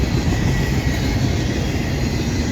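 Freight train 24M rolling past in Ohio, a loud, steady low rumble and roar of rail cars that holds constant without letting up.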